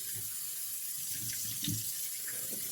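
Hot water runs steadily from a tap into a sink before shaving, giving a constant splashing hiss with faint clinks, and no speech.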